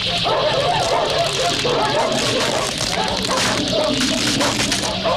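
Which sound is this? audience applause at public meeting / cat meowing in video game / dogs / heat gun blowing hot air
dogs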